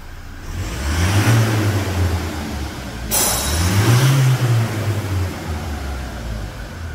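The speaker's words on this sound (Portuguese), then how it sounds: "E o Jefferson falou para mostrar o escapamento." A Toyota Hilux 2.8 with a remapped engine revs twice through its exhaust, each rev swelling to a deep, loud roar and then dropping back to idle, close by with no talking.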